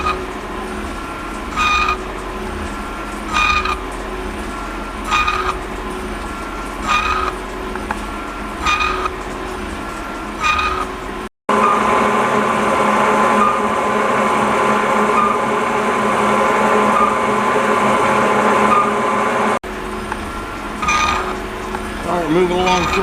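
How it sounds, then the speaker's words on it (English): A milling machine cuts across the face of a cast angle plate with a steady grinding whine, broken by pauses and a louder stretch near the middle, with no talk. "Moving along through our cut pretty nicely here."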